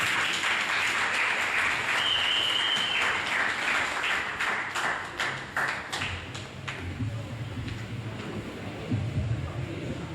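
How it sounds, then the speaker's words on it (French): An audience applauds at a regional launch event of a rally in Mauritius. The clapping is dense and loud at first, then thins into scattered claps and taps over the last few seconds. "Et applaudissez-le encore une fois."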